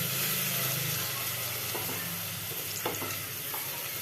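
Onions tossed into a frying pan with browned garlic sizzle in a steady, even crackle, with a few sharper stirring clinks partway through and no voices.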